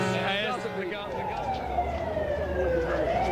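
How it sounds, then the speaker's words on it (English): Ship sirens and horns blare together in a wailing, overlapping chorus, greeting Henry VIII's flagship on the water, with background noise and a rising tone sweeping across the mix. "You hear all the sirens ringing"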